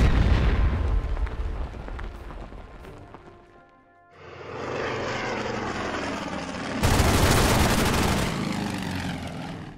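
Bombing explosions and aircraft roar in a World War II strategy game set on Guadalcanal with U.S. Marines: a deep rumbling barrage that dips, then surges into a loud, dense blast-filled roar, with no talking.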